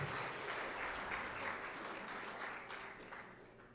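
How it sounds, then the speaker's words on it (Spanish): A congregation claps at a church service to welcome a visitor, a dense, sustained round of applause heard from within the room that fades slightly toward the end, with no talking over it. "Un aplauso para él."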